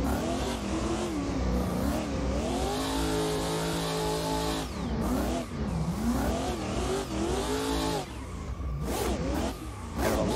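A drifting BMW M4 G82 engine revs hard through a long e-brake entry, its pitch rising and falling in repeated sweeps with the gears, loud and close, with tire noise and whooshing air beneath.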